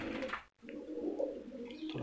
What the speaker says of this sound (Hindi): ये जी बिल्कुल देसी जिसे कहते हैं हमारे मियांवाली का देसी कबूतर, ये आपके सामने